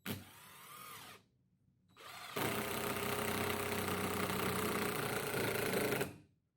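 A power drill drives three screws into the top board of a homemade wagon, a steady loud whirring motor sustained for several seconds after a brief earlier burst, with no talking.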